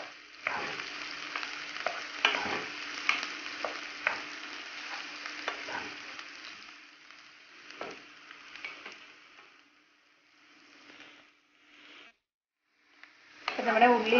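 Onions sautéing in a pan for Kerala-style prawn curry, a crackling sizzle with frequent spatula knocks and scrapes over the first several seconds, fading quieter before a sudden loud burst at the end.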